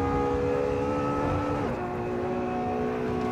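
A race car in the sim racing game Assetto Corsa accelerates through a curve, its engine a steady, loud drone whose pitch dips briefly as it shifts, then holds.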